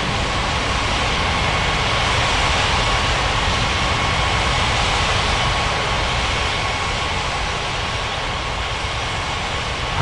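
Jet airliner taxiing in an air traffic control game, a constant loud broadband engine roar and whine that stays steady throughout, no talk.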